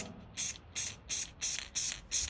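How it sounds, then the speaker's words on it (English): Clear coat sprayed onto a fingerboard in six short, even bursts from an aerosol can, each a crisp hiss with brief quiet gaps between, close and alone. "I'm going to go ahead and add the final coats of clear coat"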